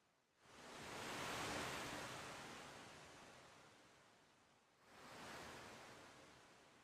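Waves crash on a beach in the game Final Fantasy V Pixel Remaster: two broad surging washes, the first long and swelling, the second following after a brief dip. They sound steady and soft, with no voices.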